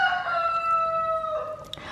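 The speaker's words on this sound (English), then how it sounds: "I apologize for the chickens in the background" A rooster crows with a long, drawn-out call of steady harmonic tones over about two seconds, with chickens in the background and a brief cluck-like note near the end.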